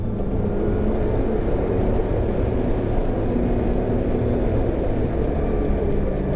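A snowmobile engine with a flywheel 2.5 pounds lighter drones steadily and loudly through the whole stretch, a dense, even mechanical rumble with no clear rise in pitch and no voices.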